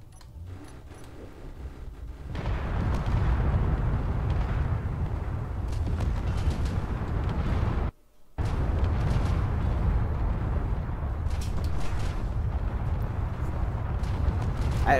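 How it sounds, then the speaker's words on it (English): Ship turrets firing in Space Engineers, targeting a vessel: a dense, rumbling roar of continuous heavy weapon fire and impacts, loud and steady, broken by one brief drop-out. "Alright, turrets, you may begin your attack."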